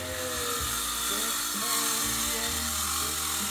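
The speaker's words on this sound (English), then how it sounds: "You cut lead with a skill saw." A skill saw cuts through lead for a boat's ballast keel, giving a steady, loud whine with shifting harmonic tones that runs the whole time without a break.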